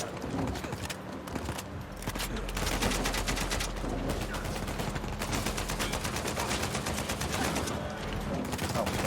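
Rapid, sustained automatic gunfire rattles continuously in an Uncharted 4 firefight, dense rhythmic bursts of shots at fairly close range with a brief lull at the start and no talking.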